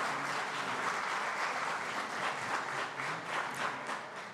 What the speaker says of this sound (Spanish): le damos también un aplauso fuerte